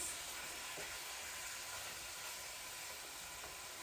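Ground beef frying with onions in a pan, being broken up and stirred: a loud, continuous close sizzle that holds steady throughout, with faint scraping of the spatula underneath.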